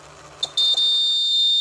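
The buzzer alarm on a DIY school short-circuit indicator project turns on with a click and then holds a steady, piercing high-pitched tone without a break.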